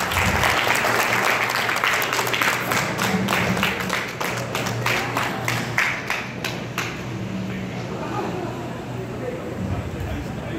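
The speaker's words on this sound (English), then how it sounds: "once again, a round of applause to our National President." Audience applause at a national biennial fraternity convention in Palawan, a dense, sustained wash of clapping from a large crowd that carries on for the full stretch and slowly thins toward the end.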